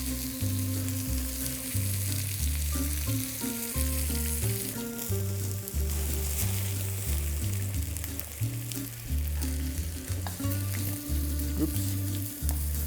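Plums caramelize in olive oil and maple syrup in a pan, giving a continuous close sizzle with occasional stirring, under a steady backing of music.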